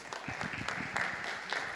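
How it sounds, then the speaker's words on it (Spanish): Brief, fairly quiet applause from an audience at an open-data environmental management event, a steady patter of many hands clapping with no other sounds. "Muchas gracias, un aplauso."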